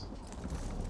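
Horse hooves clip-clopping in a video game, a quick run of muffled steps over a low rumbling bed for about a second, steady and fairly close.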